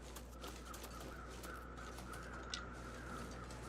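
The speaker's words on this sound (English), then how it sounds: "Ooh, crows." Crows caw in a snowy outdoor video game scene, a few faint repeated calls over a steady low hum, with no talk.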